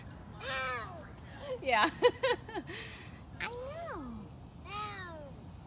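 A large cat at a big cat rescue sanctuary calls out in several drawn-out, rising and falling meow-like cries, with a burst of quicker rough calls in the middle. A person speaks briefly.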